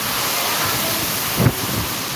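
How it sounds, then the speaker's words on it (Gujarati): Heavy rain driven by a windstorm makes a loud, unbroken roar and rush, close to the microphone, with gusts buffeting it and a short swell midway through. "જોરદાર વરસાદ વાવાઝોડા સાથે"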